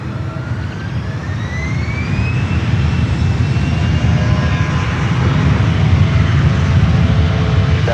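A jet airliner takes off from runway 1 left at San Francisco airport, its engine roar building steadily over several seconds, loud and continuous with a rising whine.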